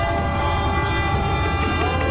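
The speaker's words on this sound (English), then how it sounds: "Train passes." A train rumbles steadily past at close range, a dense, continuous roar of wheels and engine with no pauses.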